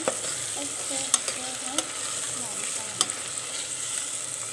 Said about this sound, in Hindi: अब हम इसमें डालेंगे चिकन और इसको अच्छे तरीके से फ्राई करेंगे।